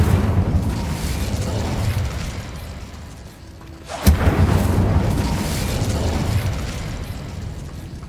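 A fire spell explodes with a sudden sharp boom in the Hogwarts Legacy video game, bursting out of a steady rumbling background and trailing off into a sustained roar.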